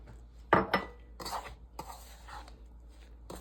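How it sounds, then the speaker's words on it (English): A spoon or utensil works through ingredients for Jamaican chicken vegetable soup in a bowl, giving a few scattered close clinks and scraping stirs, quiet and irregular, with no voices. "let me just mix it together"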